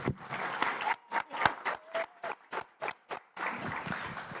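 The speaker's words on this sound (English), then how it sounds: "please give our honor scholars a round of applause" Sparse, uneven claps from an audience at an honors program induction ceremony, sounding as separate bursts at a modest distance rather than a full roar, fairly quiet overall.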